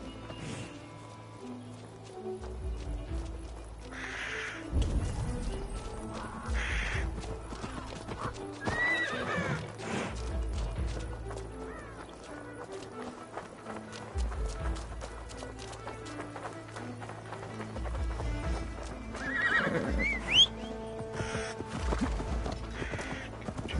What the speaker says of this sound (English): Do you not want to get on your horse, buddy?